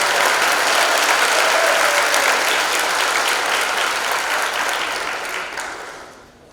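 A high school graduation audience claps in a dense, sustained burst of applause that holds steady, then tapers off toward the end.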